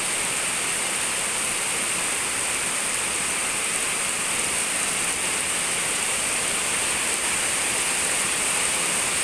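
Steady, even rain pours down without a break near a rubber-tapping site, a dense hiss that stays the same loudness throughout with no voices.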